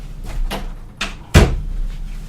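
An indoor door is swung and pushed shut with several dull knocks and thuds, ending in one sharp, loud close, near the microphone with no talking.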